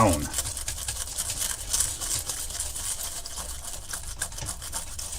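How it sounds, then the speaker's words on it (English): Close, steady bristle scrubbing on grimy retro hardware with a Flux Clean scrubbing brush, a dense rasping hiss like a nail brush, continuing with small surges for several seconds. "You can hear it like a nail scrubbing brush."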